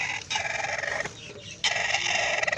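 Country hen with a newly hatched chick, close clucking and soft chirping calls in short repeated bursts, alone without talk.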